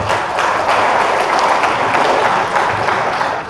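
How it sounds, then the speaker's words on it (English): An audience at a professional etiquette session claps together, a steady dense wash of applause that holds at even loudness for a few seconds before easing at the end. "Let's clap hands for him."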